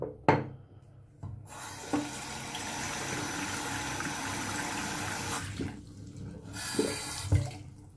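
A tap runs steadily into a sink for several seconds, close up, between soft knocks and handling sounds, then turns off and briefly runs again.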